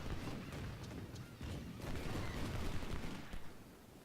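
Distant artillery fire in a Gettysburg Culp's Hill battle game, heard as a constant low rumbling barrage with scattered muffled booms and crackles, faint and continuous.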